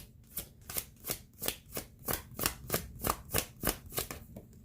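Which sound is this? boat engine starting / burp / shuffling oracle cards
shuffling oracle cards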